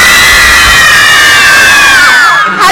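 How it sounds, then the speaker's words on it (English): A large crowd of girls screams at a Jonas Brothers sound check at the Ford Amphitheater, a loud continuous high-pitched roar of shrieks that holds steady and fades slightly at the end. "There's so many girls out in the audience right now screaming."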